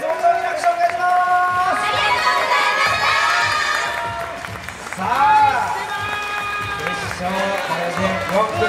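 A large crowd at a local idol competition final in Shiodome cheers and claps loudly, with excited shouting rising and falling throughout, and voices over a microphone mixed in.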